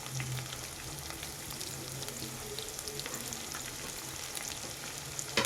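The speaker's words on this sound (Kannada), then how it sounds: "ಈಗ ಇದಕ್ಕೆ ನಾನು ಉದ್ದುದಕ್ಕೆ ಕಟ್ ಮಾಡ್ಕೊಂಡಿದ್ದೀನಲ್ಲ 2 ಸ್ಮಾಲ್ ಈರುಳ್ಳಿನ ಹಾಕೋತಾ ಇದ್ದೀನಿ" Two small sliced onions with garlic fry in a pan over high flame, a steady, soft crackling sizzle running throughout with faint occasional stirring, close and even.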